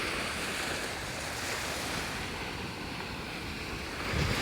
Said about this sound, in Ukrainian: Океан дуже тихий і дуже гарний на зараз.